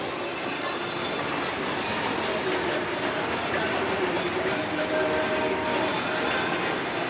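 Heavy typhoon rain and strong wind in Imus, a steady, dense roar of rainfall pounding surfaces with constant hiss and no break, fairly distant and even throughout.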